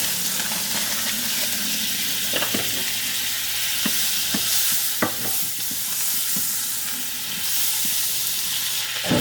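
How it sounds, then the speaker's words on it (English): Butter and onion sauteing in a warm pan, a constant close sizzle broken by several sharp utensil taps and scrapes of stirring, with no one talking. "we're going to saute our mushrooms and onions, and we have our pan warm here."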